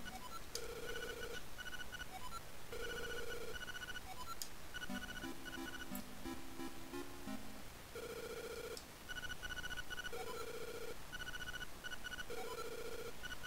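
A telephone in the video game Link's Awakening rings over and over in a repeating electronic chime pattern, with game music playing steadily throughout.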